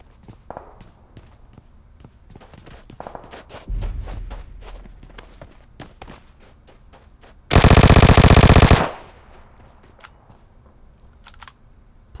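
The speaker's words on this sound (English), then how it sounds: "Somebody's shooting at this guy." Automatic gunfire in the PUBG Mobile video game on the Miramar map, with scattered distant shots and footsteps leading up to a loud, sustained burst of about a second, then fainter shots afterward; no talking.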